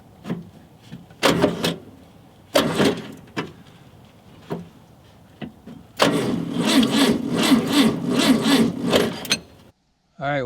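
Starter motor on a 1968 Volkswagen Karmann Ghia cranking in a cold shop, several short grinding bursts followed by one longer steady crank of a few seconds, loud and close, with a weak-sounding battery.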